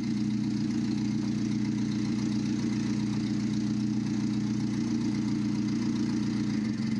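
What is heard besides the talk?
Nissan forklift engine running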